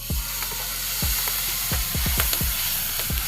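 Peanut paste and half a spoon of red masala frying in a hot pan over a wood-fired chulha, a steady sizzle punctuated by repeated scraping knocks of a spoon stirring, with no talk.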